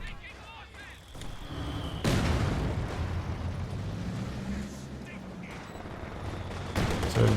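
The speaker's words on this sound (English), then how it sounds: "So mortars battling it out there" Mortar fire and shell impacts in the real-time strategy game Company of Heroes 2, heavy booming blasts and rumbling explosions repeating over several seconds, loud and close, with a commentator's voice mixed in.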